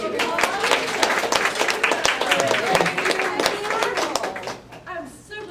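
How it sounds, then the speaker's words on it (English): A room full of people at an occupational therapy orientation breaks into loud, sustained applause and clapping that runs for about five seconds before tapering off. "Give her a round of applause."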